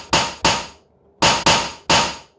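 Punchy synthesized drum hits from an MPC 500 with the grunger effect, five sharp, loud, close strikes in two clusters with short decaying tails and a gap between them.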